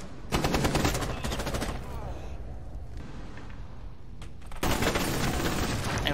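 Rapid automatic gunfire in the video game Rainbow Six Siege, loud and dense in sustained bursts with a short lull in the middle before another heavy volley.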